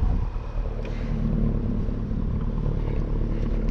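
A 2020 Lamborghini Urus exhaust runs quietly, giving a steady, even low rumble that holds without revving throughout, heard from close by.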